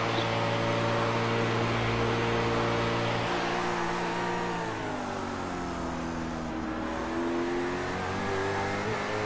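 Race cars lap a track during a race with about ten cars left, a loud continuous engine drone with shifting pitch as several cars roar past close by, with no talking.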